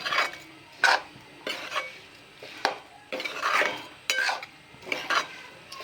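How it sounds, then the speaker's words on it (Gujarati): A spoon stirs a chunky cut-mango pickle in a pot, scraping and clinking against the metal in repeated, uneven strokes. The sound is close and moderately loud, with no voices. "હલાવતા જઈશું આ રીતે."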